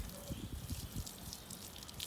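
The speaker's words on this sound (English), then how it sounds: "There's some dirt that splashed up, so just kind of do a second rinse." Water pours and splashes over a freshly eviscerated chicken during a second rinse, a steady close trickle with scattered drips and no talk.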